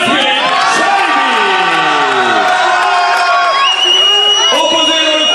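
A crowd at a kickboxing event cheers and whoops for a fighter's ring introduction, loud and continuous throughout, with voices shouting above the roar.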